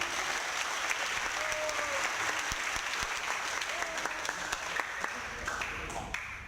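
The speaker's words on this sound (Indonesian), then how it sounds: "Tepuk tangan dong buat Nelly." Audience applause at an Indonesian motivational seminar as a participant is called to the front, a steady dense clapping wash lasting several seconds, fairly near and continuous with individual sharp claps standing out.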